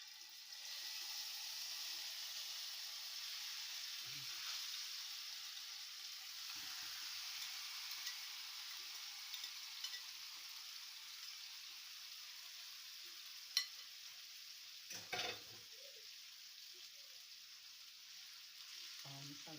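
Egyptian-style beef shawarma in a pan of oil gives a steady, moderately loud sizzle that runs the whole time, with a few faint clinks and a brief thud near the end.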